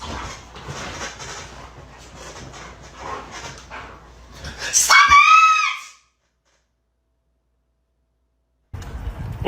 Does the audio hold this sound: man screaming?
yes